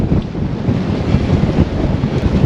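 Strong wind blows hard at a harbor, a steady low roaring rush buffeting the microphone, loud and continuous with no voices.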